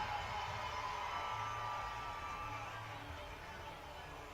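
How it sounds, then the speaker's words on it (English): Summer Creek football fans cheer in a stadium during a 6A-II regional final against Hightower, a steady, fairly distant crowd roar that holds for a few seconds and slowly eases off. "the Summer Creek faithful are cheering"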